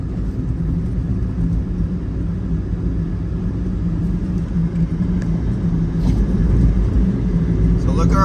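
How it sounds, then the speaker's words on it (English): A 2012 Prius C cruises down the freeway, giving a steady, loud low rumble of road and engine noise that swells slightly toward the end. "This is driving down the road."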